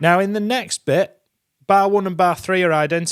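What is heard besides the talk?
No distinct noise like a dog, phone or traffic.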